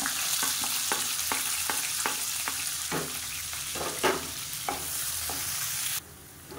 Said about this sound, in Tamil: இப்போ வெங்காயம் இந்த அளவுக்கு நல்லா பொன்னிறமாக வறுத்துக்கோங்க